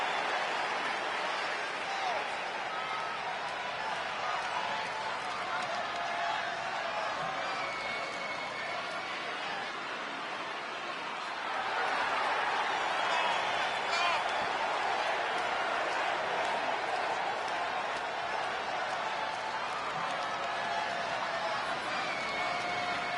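A crowd in the WWE 2K20 wrestling video game cheers and applauds at a women's match entrance, a steady broadband roar that swells louder about halfway through, with commentators talking over it.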